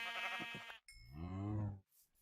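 Minecraft sheep give two close, clear bleats in quick succession, the second longer and lower, with a brief pause between them.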